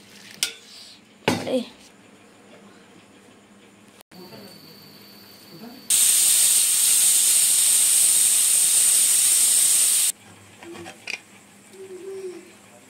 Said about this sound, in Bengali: এবারে আমি এটা প্রেসার কুকারে সিটি দিয়ে নেব